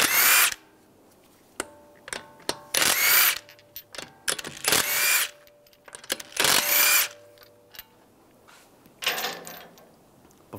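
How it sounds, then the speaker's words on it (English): A power drill-style tool with a 19mm socket spins lug bolts off the front wheel of a 2013-2016 Dodge Dart, firing in several loud bursts of whirring separated by quiet clicks and metal handling, close to the listener. "take the lug bolts out"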